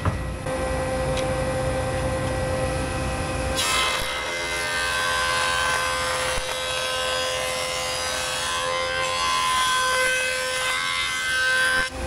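Jointer flattening one face of a wooden board for a shuffleboard table, a continuous loud cutting roar that shifts partway through as the board feeds across, close and steady with no talk.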